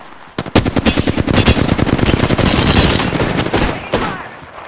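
Rapid automatic gunfire from the Apex Legends video game, loud and close, with dense, continuous bursts that run almost unbroken for several seconds before tapering off.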